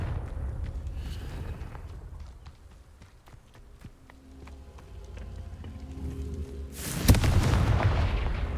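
Confringo blasting spell in the game Hogwarts Legacy erupts in a sudden loud explosive burst near the end, after a stretch of scattered thuds, clicks and low rumbling combat sounds.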